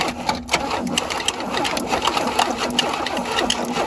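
1977 Chevy Camaro engine cranking over with no spark plug, a fast rhythmic chugging whir with air puffing from the spark plug hole, steady and close.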